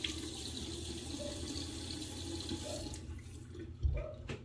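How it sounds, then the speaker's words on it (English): A bathroom sink tap runs in a steady, close hiss while water is scooped and splashed onto a face. A brief, heavier splash comes near the end. "I'm gonna use some water real quick on my face."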